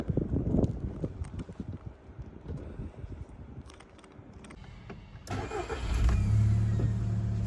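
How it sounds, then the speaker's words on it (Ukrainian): A 2006 Volkswagen Golf Plus 1.6 MPI engine cranks and catches easily, rising into a steady idling rumble after a few seconds of low mechanical rattling, close by. "Автомобіль заводиться з півтику."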